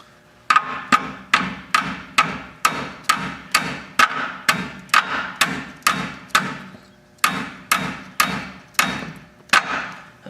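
A hammer taps on a rear brake rotor of a Ford Super Duty Powerstroke truck to free it, about twenty sharp metallic knocks in a steady rhythm with one short pause, close and alone.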